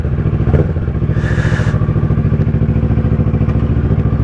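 A 2010 Kawasaki ER6N motorcycle engine runs on choke after a start, a loud, close, lumpy idle with rapid regular pulsing and a brief mechanical clatter early on.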